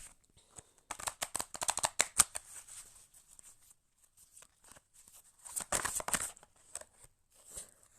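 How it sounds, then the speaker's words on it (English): A deck of tarot cards is shuffled by hand in several close, crisp bursts of riffling and flicking, with a short pause between runs and no talking. "let's go ahead and shuffle this deck and get some cards pulled"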